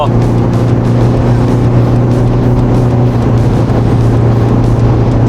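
Tuned Isuzu MU-X SUV, rated at 380 horsepower, accelerating hard after a gear downshift, a loud, continuous engine drone and road roar heard from inside the cabin.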